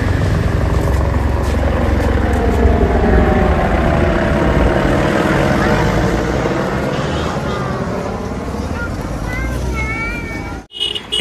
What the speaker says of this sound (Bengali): এই যে হেলিকপ্টার চলছে,